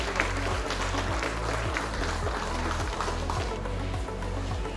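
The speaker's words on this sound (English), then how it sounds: "A round of applause for Alan Anderson, please." Audience applause fills the room at a launch event for an education community platform in Bangalore, a steady wash of clapping sitting over a loud, low, stepped musical bass line for about five seconds.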